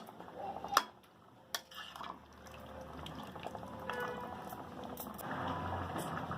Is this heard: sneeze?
no